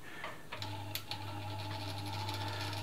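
An elna Lotus SP ultra-compact sewing machine runs steadily as it winds a bobbin, a close, even motor hum with a few light clicks at the start.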